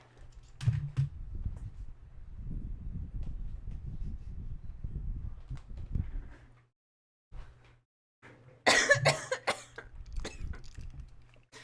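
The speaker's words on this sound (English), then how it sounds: "I'm coughing a lot." A few sharp coughs with throat clearing, close to the microphone, separated by rustling, muffled handling noise and brief silences.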